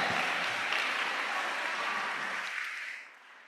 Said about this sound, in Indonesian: tepuk tangannya untuk Marvel